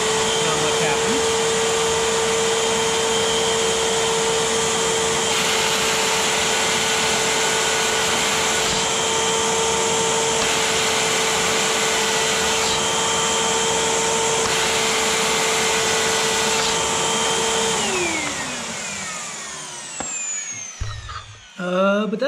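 An upright vacuum cleaner being repaired for a bad bearing runs steadily and loudly with a constant motor whine, then spins down near the end with clunks and handling noises. No speech.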